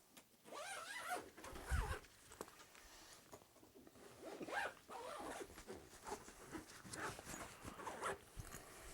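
A zipper is pulled along a golf travel bag in several long, scratchy strokes, close and fairly quiet, with brief pauses between pulls.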